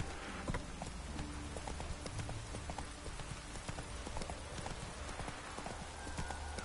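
Horse hooves clip-clop in a steady trotting rhythm while riding in The Witcher 3 video game, over a continuous backdrop of rain-like ambience, with no voices.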